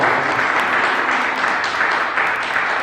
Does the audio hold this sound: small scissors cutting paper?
no